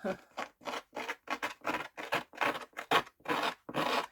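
Repeated scratching strokes across a surface to give it a worn, distressed look for a Halloween craft: about eleven short, rhythmic rasps, close and fairly quiet, separated by brief gaps.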